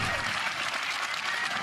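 Spectators at a pickleball match at the Red Rock Open break into applause, a dense, even wash of clapping from a crowd that holds steady for the whole moment.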